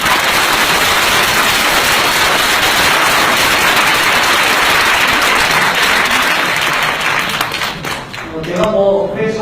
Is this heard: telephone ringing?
no